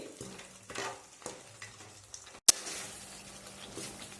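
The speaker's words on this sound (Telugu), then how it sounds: "ఒకసారి కలుపుకొని ఒక మూడు నిమిషాల పాటు ఉడకనిద్దామండి" Tamarind and peanut mixture being stirred as it cooks in a pan: a soft continuous sizzle with repeated scraping stir strokes, one sharp clack of the spoon against the pan midway.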